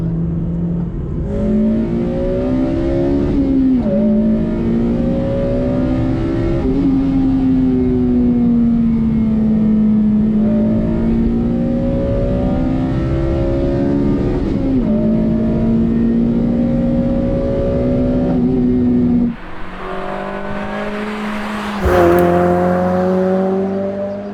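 A Honda Civic Type R FD2 Mugen RR VTEC engine revs hard and holds at very high rpm, 8000 to 9000, for a long stretch, briefly dropping off before screaming back up again.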